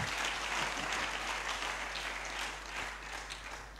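A congregation applauds during a church worship service, a dense, continuous wash of clapping that holds steady and then eases slightly toward the end, with no clear voices above it.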